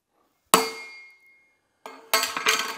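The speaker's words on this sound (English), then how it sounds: "Let's do it on the vevor. I'm gonna try and hit it up here." A hammer strikes a Vevor garage floor tile in close, sharp knocks: one hard hit that rings out briefly, a pause, then three quick hits in a row.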